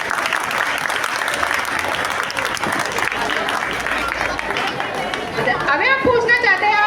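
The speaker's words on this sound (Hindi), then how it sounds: "तो एक बार फिर उनके लिए भरपूर तालियां प्लीज।" An audience at a Catholic church Christmas program claps for the children, a continuous wash of applause with chatter mixed in, giving way near the end to a voice over the fading clapping.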